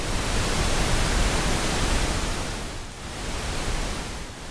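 Steady broadband test noise like pink noise with a heavy low-end boost around 55 Hz, continuous and fairly loud, with a brief dip near the end.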